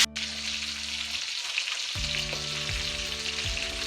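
Ribeye steaks and onions frying in a cast iron skillet give a steady, close sizzle. Short tonal rings and a brief gap partway through sit over the hiss, with no voices.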